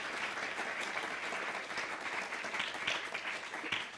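At a junior magic competition, an audience claps steadily for several seconds, making a dense, sustained wash of applause.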